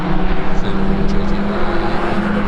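GT race car climbing a hillclimb course toward the hairpin, a steady loud engine drone with a constant low hum and little variation, no voices over it.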